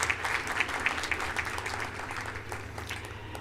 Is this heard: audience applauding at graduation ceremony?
yes